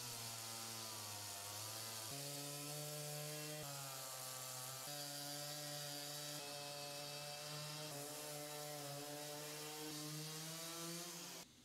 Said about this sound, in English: They are rough cut to shape with a chainsaw.